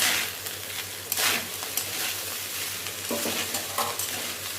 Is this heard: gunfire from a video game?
no